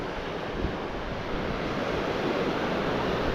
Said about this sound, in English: The waves are starting to take it, and there's stuff washed up against it.